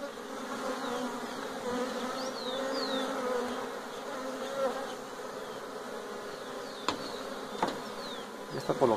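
Honeybees buzz steadily and close around beehives while hives are being combined, a dense continuous hum with individual bees whining past, plus a few sharp knocks near the end.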